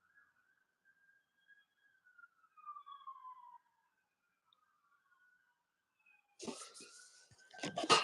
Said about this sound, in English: We got some sirens.